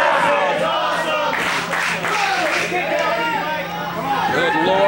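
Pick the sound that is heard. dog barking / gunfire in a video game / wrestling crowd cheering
wrestling crowd cheering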